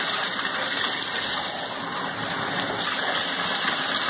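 Running water pours in a steady, loud, continuous rush as ferrets are rinsed in a bath, with no break for the whole stretch.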